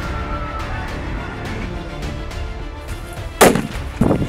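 A grenade detonates during a military training drill: rumbling outdoor background gives way to two sharp, loud blasts about a second apart near the end.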